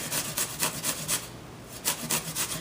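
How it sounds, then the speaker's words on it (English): An apple is rubbed down a coarse grater into a peanut butter flour mixture, giving steady rhythmic rasping strokes, close and fairly loud, about a dozen passes with a brief pause midway. "I'm just going to take it on my coarse grater here and grate it right into my peanut butter flour mixture."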